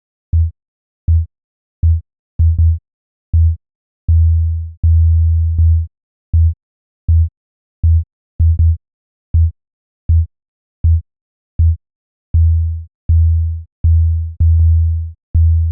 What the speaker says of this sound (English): the gate opens up to let the sine tone through only when it hears a kick drum